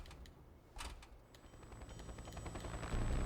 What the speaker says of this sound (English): The chopper's back.